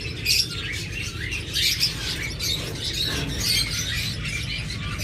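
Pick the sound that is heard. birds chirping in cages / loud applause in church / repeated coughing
birds chirping in cages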